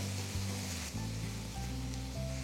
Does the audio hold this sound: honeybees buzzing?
no